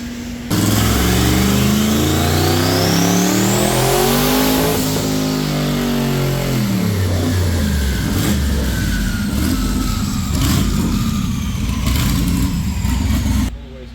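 A twin-turbo LS engine on a dyno revs hard, its pitch climbing, dropping and climbing again in a loud roaring sweep, then holding at high revs with sharp pops and turbo whistle before cutting off.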